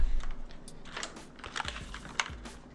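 Key presses on a HyperX Alloy Origins mechanical keyboard fitted with red linear switches, a steady run of close, crisp clicks and clacks with a few louder bottom-outs, no voices.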